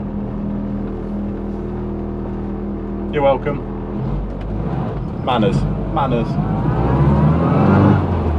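A classic Mini Clubman drives along narrow Sussex country roads, its engine a steady, loud drone throughout, rising slightly toward the end, while people talk briefly over it inside the car.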